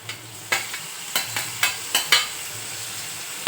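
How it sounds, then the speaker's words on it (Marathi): Onions fried until reddish in a pan for a tomato dish, stirred with a spoon: a steady close sizzle broken by about eight rhythmic scraping strokes at roughly half-second intervals, with no talking. "ह्या भाजीत कांदा मस्त लाल झालेला खूप छान लागतो आता टाकून घ्यायचंय टोमॅटो"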